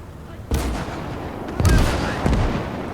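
Mortars fire in the WWII strategy game Gates of Hell: three heavy booming blasts about a second apart, each with a deep thump and a short rumbling tail, loud and close.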